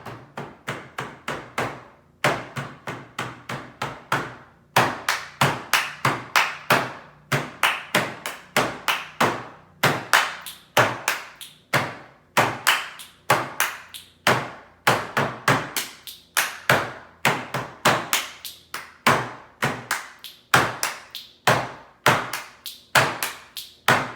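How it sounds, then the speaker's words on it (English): Hand clapping in varied rhythm patterns for a music lesson, sharp close claps in quick groups and steady runs with brief pauses between phrases, no talking over them. "here's how you do hand clap sevens"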